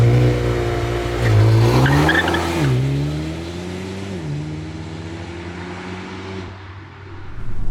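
A Mercedes A35 AMG hot hatch pulls away hard in a launch-control race start, its engine loud and close, climbing through several sharp gear changes with brief tire squeal, then fading as it eases off.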